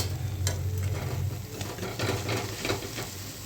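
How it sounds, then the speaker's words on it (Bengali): Doi bora fritters fry in hot oil, giving a short, steady sizzle with light bubbling and faint scraping, close and moderately loud, with no voices. "এইভাবে সব কটা ভেজে নিচ্ছি দেখো কত সুন্দর ফুলেছে"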